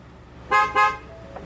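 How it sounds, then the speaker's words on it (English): A Ford F-150 pickup gives a double horn honk as it locks: two short, sharp honks close together, with a quiet pause before and after. "disable the double honk that the truck does"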